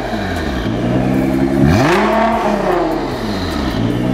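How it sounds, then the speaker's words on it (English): A Nissan GT-R R35 fitted with an ARMYTRIX turbo-back exhaust and no catalytic converters revs loudly up close, engine pitch climbing sharply in one big rev and then easing back down to a droning idle. "We did the turbo back system on his car. So there's no more catalytic converters on the thing. It's loud."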